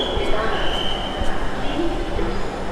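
A metro train at Pallabi metro station, Dhaka, rumbles steadily with a whining tone throughout, close and moderately loud, with people talking in the background.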